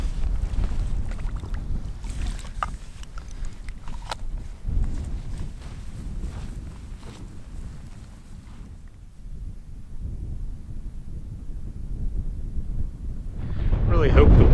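Strong mountain wind gusts in heavy rumbling buffets against the microphone, dropping off briefly midway, then surging loud again at the end, with a few faint clicks mixed in.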